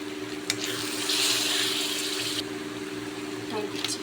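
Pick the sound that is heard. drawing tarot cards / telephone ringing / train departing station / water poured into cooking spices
water poured into cooking spices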